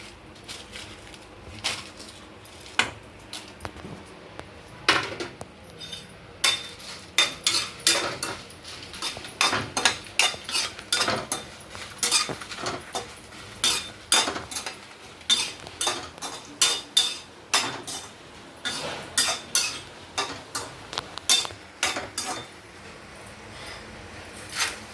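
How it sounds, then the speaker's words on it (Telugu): Red chillies sizzling and tossed in hot oil in a kadai, with a steady run of sharp metallic scrapes and clinks from a ladle against the pan, close and fairly loud, no talking. "ఆయిల్ వేసానండి బాండీలో మిరపకాయలు వేపుతున్నాం."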